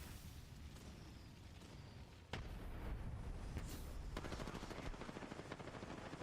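Steady rapid automatic gunfire in Apex Legends, a dense continuous rattle of shots that grows louder partway through and keeps going, loud and close with no talk over it.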